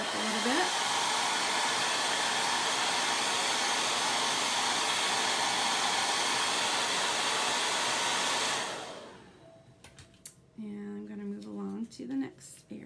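Hair dryer drying chalk paste on a craft project, a loud steady blowing roar for about nine seconds, then it switches off and winds down, followed by someone speaking.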